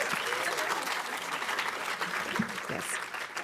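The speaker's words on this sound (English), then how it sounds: "So you can clap for that," An audience claps steadily at a Dartmouth arts awards ceremony, a dense wash of applause that holds for a few seconds and tapers slightly.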